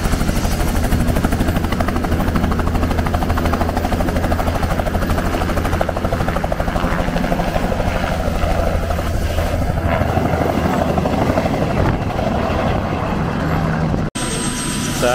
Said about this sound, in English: So that's our helicopter just arrived now